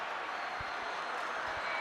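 Distant crowd noise at a school rugby match between Paarl Boys High School and Paarl Gimnasium, a steady broad wash of cheering and applause with a few low thumps, no clear voices on top.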